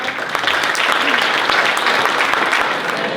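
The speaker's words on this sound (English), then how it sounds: "if I can have one more round of applause for Hayley and for Pierre" Forum audience at an economic outlook and housing event applauds the speakers Hayley and Pierre, a loud, close, sustained burst of many hands clapping throughout.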